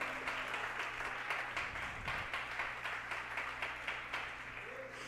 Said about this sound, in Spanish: Si le dan un aplauso, déselo al Señor.